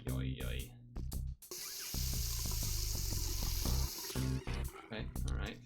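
Water gushing and splashing in the video game Dinocop, a steady broadband rush lasting a couple of seconds amid game music and effects, with a voice talking around it.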